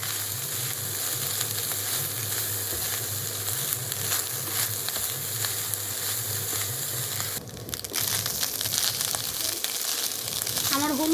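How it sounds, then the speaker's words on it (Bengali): Leftover rice mixed with turmeric powder fries and is stirred in a pan, giving a steady, close sizzle with scraping and crinkling stir noises throughout, a brief louder scrape near the end. "আর সবগুলোকে ভালোভাবে মিক্স করে নেব যাতে হলুদের কোনো গন্ধ ভাতে না থাকে।"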